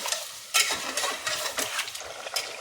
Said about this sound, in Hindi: अब इसको मिक्स कर देंगे अच्छे से, 2-1 मिनट भून लेंगे